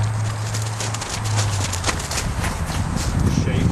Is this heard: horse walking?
yes